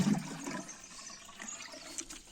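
Pond water steadily gurgles and splashes as a watering can is filled from a small pontoon, a continuous, fairly faint wash of water noise with no talking.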